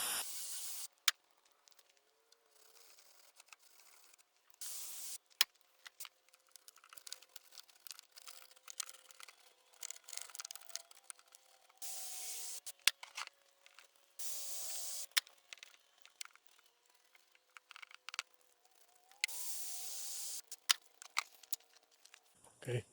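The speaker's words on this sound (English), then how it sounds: "Just let the sandpaper do the work." Sandpaper rubs over a cloudy plastic headlight on a Mitsubishi EVO 8, coming in bursts of scratchy, hissing strokes with short gaps between them, close up and moderately loud, while someone talks quietly now and then.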